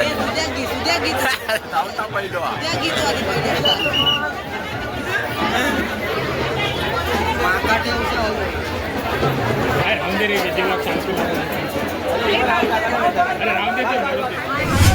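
A steady, dense hubbub of many voices chattering together in a food line at a wedding in Jaitapur. The crowd is close and fairly loud, with overlapping talk throughout and no single voice standing out.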